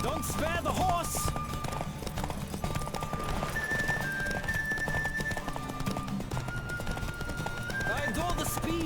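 Galloping horse in the video game The Witcher 3: Wild Hunt, continuous rhythmic hoofbeats with brief whinnies, loud and steady over game music throughout.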